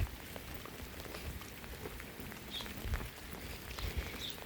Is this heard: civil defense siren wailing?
no